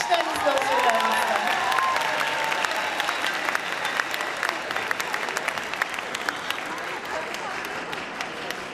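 A concert hall audience at a Turkish classical music ensemble's centenary concert applauds as the soloist is welcomed, a dense wave of clapping with a few cheers that gradually thins and softens.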